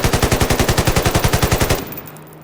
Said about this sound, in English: With the new gun sounds,